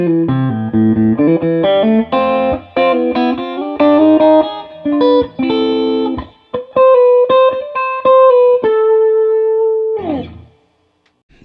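An electric guitar through a MOSFET Tube Screamer-type overdrive pedal with warm, mid-heavy overdrive plays chords and single notes, ending on a long sustained note that cuts off abruptly.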